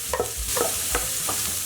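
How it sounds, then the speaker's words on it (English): Onions hitting hot oil in a large pan and being stirred, giving a steady sizzle with several soft scraping stir strokes, close and moderately loud, no talking. "And we're going to add our onions straight in."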